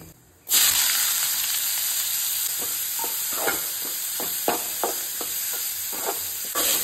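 Cumin seeds sizzle in hot oil as a steady, close hiss, with a short run of light stirring scrapes and taps.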